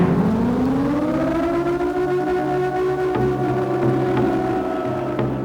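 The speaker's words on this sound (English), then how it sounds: "especially the sound of the siren." A wailing siren from the horror video game Siren holds a long, loud, droning tone with layered harmonics, sustained without a break and heard alone.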